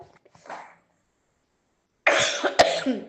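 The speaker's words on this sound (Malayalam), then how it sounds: "ചുമയൊക്കെ ഉണ്ട്." A short, faint cough from a dog nearly a year old during a bath, then after a pause a louder burst of harsh coughing close by.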